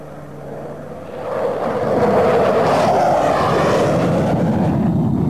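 A fighter jet armed with missiles and a cannon flies at a 1987 air show, its engine roar swelling from a moderate rumble to a loud, sustained broadband blast as it passes close.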